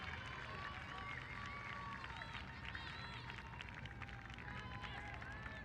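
Soccer fans cheer in a stadium during a Northern Super League match between Calgary Wild FC and AFC Toronto, a steady, dense crowd roar with whistles and shouts throughout, with a commentator talking over it.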